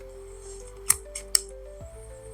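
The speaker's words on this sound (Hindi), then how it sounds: "ये ग्लूकोमीटर है, स्ट्रिप इंसर्ट कर रहा हूँ मैं।" A test strip clicks into a glucometer during a home blood sugar check, giving two sharp, close plastic clicks with a softer tick between them over a faint background hum.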